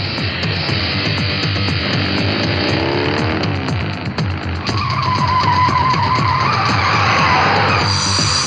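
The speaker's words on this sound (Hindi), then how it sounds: "वहां पे गाड़ी रोक दो।" A car speeds away in a dramatic movie scene, its engine roaring continuously while the tires let out long, loud skidding squeals throughout, with no talking over it.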